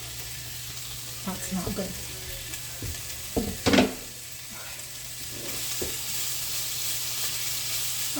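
Food sizzling in an oiled frying pan, a faint steady hiss under scattered clatter and brief quiet talk, with a louder clank partway through.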